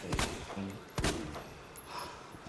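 Gunfire in the Resident Evil 2 video game: two or three sharp shots in quick succession over a short burst, fairly loud and close, with no talk over them.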